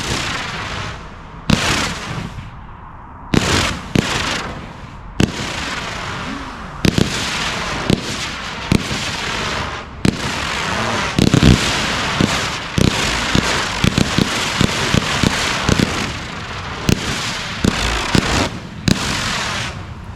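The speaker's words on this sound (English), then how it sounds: "Let's fire it and see what it looks like." A 1.3G fireworks cake, Ebb & Flow from Prestigious Pyrotechnics with roughly 20 mm tubes, fires outdoors in a loud, steady run of sharp launch thumps and crackling bursts, shot after shot for twenty seconds.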